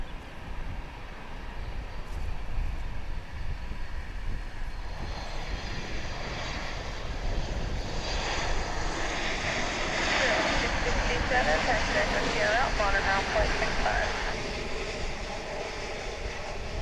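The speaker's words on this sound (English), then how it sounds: "It's an American Airlines MAX 8" An American Airlines Boeing 737 MAX 8 at Dallas Fort Worth airport gives off a steady, loud jet-engine roar that swells and brightens in the middle stretch, then holds without a break.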